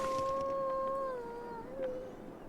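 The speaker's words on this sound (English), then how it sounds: "He sounded like a very, very sad wolf." In the survival game The Long Dark, a wolf gives a long, sad, wavering howl that slowly falls in pitch and then rises again briefly, distinct over a soft windy backdrop with no speech.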